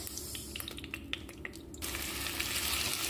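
Potatoes dropped into melted beef fat, light taps and drips giving way to a steady, close sizzle of frying that holds to the end.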